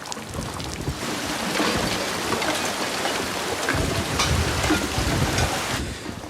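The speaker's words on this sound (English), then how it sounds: "When the storm hit, it wasn't just rain." Heavy storm rain pours down in a dense, loud, continuous wash, with surging gusts of downpour and possible rumbles of thunder beneath.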